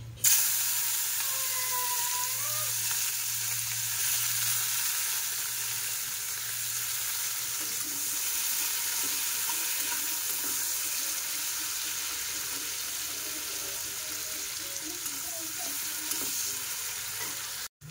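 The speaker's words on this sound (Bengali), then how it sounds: "পেঁয়াজটা যখন ভাজা হয়ে যাবে" Chopped onions fry in hot oil with bay leaf and pepper, giving a continuous even sizzle and crackle that holds steady close by for the whole stretch, with no talking.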